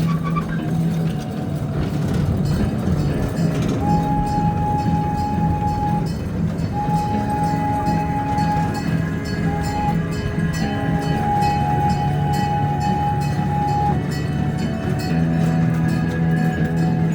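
Old Tucson Railway train rolling along with a steady, loud rumble of cars on the track, while a long whistle blows in several drawn-out blasts, with a short gap between them.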